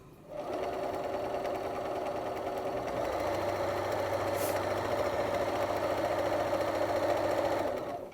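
A sewing machine runs steadily, stitching layers of fabric together for a rice heating pad, with a continuous motor hum and rapid needle rhythm that deepens slightly partway through, close and loud with no talking.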